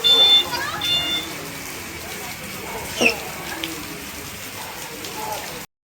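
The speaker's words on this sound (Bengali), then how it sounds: "এত গরমের পরে অবশেষে আসলো বৃষ্টি" Steady rain patters on a surface, with a broad hiss throughout and a brief louder splash partway through.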